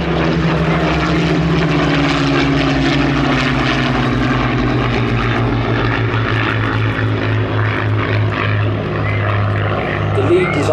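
A Supermarine Spitfire of the Battle of Britain Memorial Flight at the Midlands Air Festival flies overhead with a steady, loud propeller drone. The engine sound holds strong throughout against wind and crowd noise.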